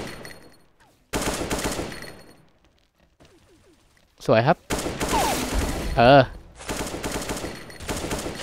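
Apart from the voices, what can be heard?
AK rifle gunfire in a video game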